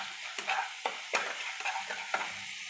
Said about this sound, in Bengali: হলুদ গুঁড়ো, লঙ্কা গুঁড়ো, সমস্ত মশলা দিয়ে ভালো করে আমি কষিয়ে নেব যতক্ষণ না মশলা থেকে তেল ছাড়ে